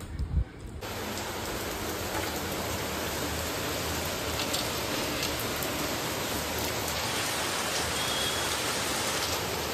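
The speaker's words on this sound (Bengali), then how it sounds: "উমা বৃষ্টি যাকে বলে সেই লেভেলের বৃষ্টি হচ্ছে।" Heavy rain falls steadily in a dense, unbroken hiss of drops pattering on surfaces. It stays loud and constant throughout, with no voices.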